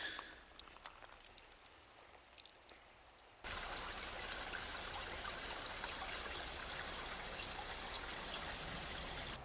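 Water runs from a small pipe sticking out of a snowy mountainside in the Great Smoky Mountains, a steady close trickling hiss that starts abruptly and continues without a break.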